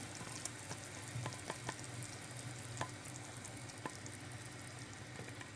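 Sauce being stirred into boiling tarhana soup, with a steady faint simmering sizzle and soft scattered clinks and splashes from the pot, no talking.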